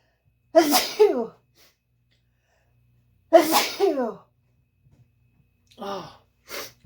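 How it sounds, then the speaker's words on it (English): Two loud, sharp sneezes, set off by pepper while someone cooks sandwiches and tacos from frozen fish sticks in a home kitchen, come a few seconds apart in a quiet room, followed by softer breathy sniffs and gasps. "pepper especially gets to me and makes me sneeze"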